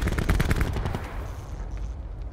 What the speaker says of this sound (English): They're shooting at my barrier